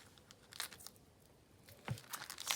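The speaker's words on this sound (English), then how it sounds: "let me just cut the top open" A blade slits the sealed top of a package with short crinkling, tearing bursts in two quick clusters. The sound is close and quiet, with no voices.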